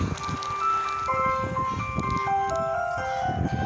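An ice cream truck plays its tinkling electronic jingle, a steady chain of bright melodic notes repeating over low street rumble, with no talking over it.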